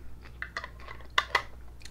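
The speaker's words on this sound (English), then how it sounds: "Now you've got a pepper ring to chew on." Someone chewing a ring of jalapeno pepper taken from organic jalapeno jelly, a series of soft, wet, close bites and crunches, with two sharper snaps near the end.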